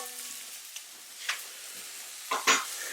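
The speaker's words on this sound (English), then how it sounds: "My pan's obviously still hot over here, and I'm just throwing them in. Just cut side down and just letting those go." Pieces set cut side down in a hot pan of dark rendered beef fat crackle softly, with a few short louder spits and bursts of sizzle.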